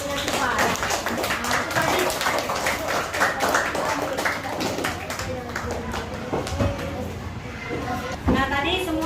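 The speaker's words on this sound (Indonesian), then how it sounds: "Beri tepuk tangan untuk kelompok yang cepat." Students in a classroom clap for a group of classmates, a scattered, uneven patter of hands with voices talking over and between the claps.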